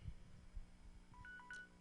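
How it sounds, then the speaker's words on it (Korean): A telephone signals an incoming call during a church worship service, giving a few faint, short electronic beeps over quiet room tone. "우리 아들이 아빠를 찾는다고 전화 온 것 같아요."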